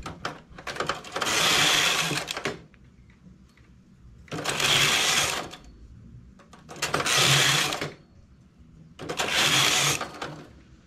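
A knitting machine carriage sweeps across the bed four times, knitting lace rows at tension setting 10. Each pass is a steady whirring rattle of about two seconds, close and fairly loud, with quiet pauses between passes.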